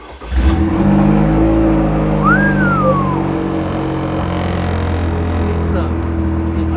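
A car engine runs loud and close with a steady rumble and rises in a rev partway through, while people talk over it.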